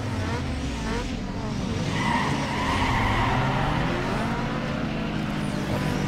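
Race cars tear around a circuit in Need for Speed Underground 2, engines roaring continuously as tires skid and squeal while passing a Supra, a 206 and an Eclipse; a voice comments over the racing noise.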